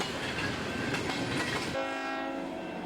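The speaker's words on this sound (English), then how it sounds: "here I am at the same train at Highway 26" A freight train rumbling past a crossing at Highway 26 on a cold morning, steady loud rolling clatter, then a long sustained horn blast cutting in partway through and holding to the end.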